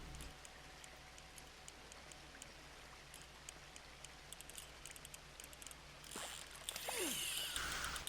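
Soft, steady rainfall in the video game Red Dead Redemption 2 while fishing, with scattered droplet ticks, quiet at first, then a louder splashy burst of water near the end.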